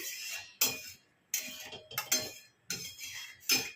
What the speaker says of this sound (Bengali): কড়াটাকেও ভালো করে ধুয়ে নিচ্ছি।